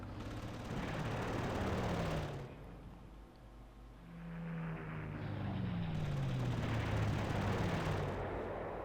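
A heavy tank hit in the WWII strategy game Panzer Corps, set on the Moscow 1941 front, plays as two long, loud roaring blasts of gunfire and explosion with a quieter rumbling lull between them.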